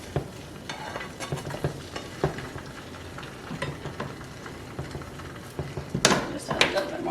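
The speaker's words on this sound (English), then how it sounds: "now we're going to get in underneath your egg, and you're going to flip it over, and now it'll cook on the other side" An egg frying in butter in a pan gives a soft, continuous sizzle, with scattered scrapes and taps as a utensil slides under it and turns it over, ending in a louder clatter near the close.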